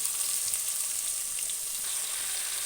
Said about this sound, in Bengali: এবার দিয়ে দিচ্ছি আমি কেটে রাখা ঝিঙেগুলো।